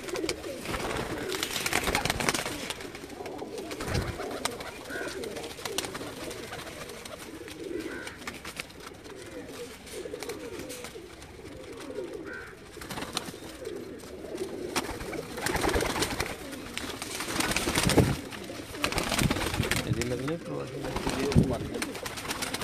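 A flock of pigeons on a rooftop in Gujrat, Pakistan, cooing in soft, overlapping, throaty murmurs that continue throughout, with someone talking nearby over them.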